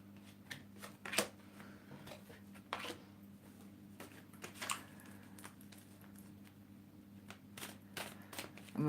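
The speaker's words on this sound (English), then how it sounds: "Shuffle the cards." A deck of cards being shuffled at a reading table, with soft riffles and snaps in irregular bursts over a low hum, quiet and close, no talking.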